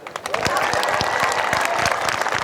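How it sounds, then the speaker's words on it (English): Crowd at a graduation ceremony breaks into applause, a dense burst of clapping with a few distinct nearby claps and some voices mixed in, holding steady through the short stretch. "Doesn't President Keating deserve a round of applause for this weather?"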